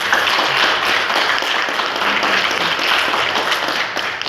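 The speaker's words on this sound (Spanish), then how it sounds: "Vamos a dar un fuerte aplauso," A church congregation gives a loud, sustained round of applause during a Spanish-language service, dense steady clapping from many hands filling the room without speech.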